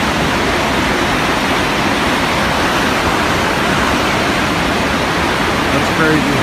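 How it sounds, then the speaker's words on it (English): Water thunders down the Oroville Dam emergency spillway as a dense, unbroken roar, loud and constant with no letup. "That's the emergency spillway. It's going stronger than it has been."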